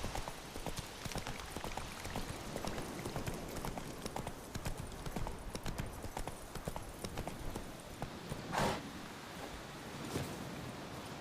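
Roach the horse trots in The Witcher 3 with a steady, rapid clip-clop of hooves under an ambient outdoor wash, moderately close, plus one brief louder swell near the end.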